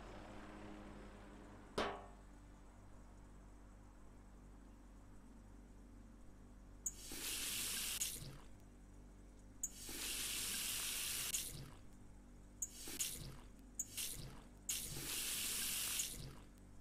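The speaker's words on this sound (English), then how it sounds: "Fill it with about 1 liter of cold tap water." Cold tap water gushes into a big pot in Cooking Simulator VR, several separate bursts of running water from the faucet with quiet gaps and a sharp knock before the first, close and clear with no talk.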